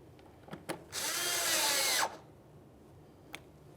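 A power driver runs a mounting screw into the front bumper cover of a 2003-2007 Honda Accord in a single whirring burst of about a second. Faint clicks and taps of handling come before and after it.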